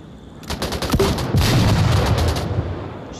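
Gunfire in the VR shooter Onward, a raid mission: a dense run of sharp shots crackles in bursts, thinning out toward the end, loud and close with a low rumble beneath.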